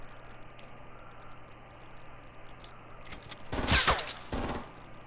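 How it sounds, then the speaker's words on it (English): Sniper rifle shots in Fortnite Battle Royale, a couple of sharp, loud cracks with a rumbling tail bursting out after a few seconds of low ambient hum. "shooting downhill with a sniper is a pain in the ass, man"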